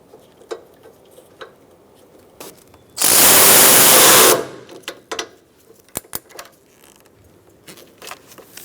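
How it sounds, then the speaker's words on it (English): A power tool drives in the bolt for a 2012-2018 Ford Focus washer reservoir in one loud continuous whirring burst of about a second and a half, framed by quiet clicks and metal taps. "you can install this bolt for your washer reservoir"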